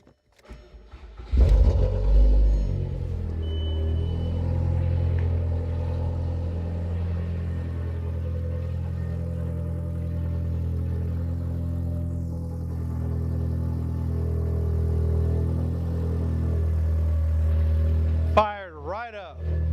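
A Volkswagen MK4 GTI engine cranks and fires, then settles into a steady, loud idle rumble that runs for most of the stretch before a brief change near the end.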